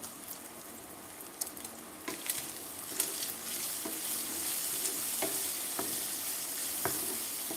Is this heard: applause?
no